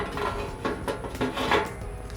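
Metal rods clank and scrape as they are set into a Pit Barrel Cooker over lit charcoal, several sharp knocks in a short irregular series, close and fairly quiet with no talk.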